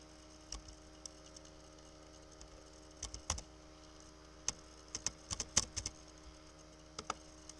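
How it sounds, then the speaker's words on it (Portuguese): Quiet, scattered keystrokes on a computer keyboard, with single taps and a few quick clusters over a faint steady hum, fairly close and soft. "a gente vai pressionar o símbolo de interrogação e digitar o nome"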